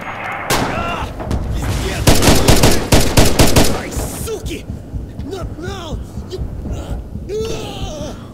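Rapid bursts of gunfire from Red Orchestra 2, a World War II shooter, crack loudly in a dense cluster midway, with a voice speaking and game sounds around the shots.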